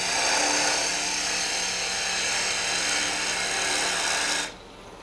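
A hand carving tool is pushed through wood while shaping a mushroom, giving a continuous close raspy scraping that stops abruptly at the end.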